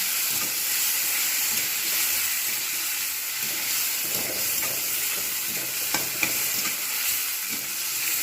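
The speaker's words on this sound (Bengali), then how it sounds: "কড়াতে সর্ষের তেল দিয়ে দিয়েছি গরম হয়ে গেছে চিংড়িটাকে আমি ভালোভাবে ভেজে নেবো" Prawns frying in hot mustard oil in a wok for a Bengali lau chingri dish, a dense continuous sizzle up close with occasional soft clatter from stirring.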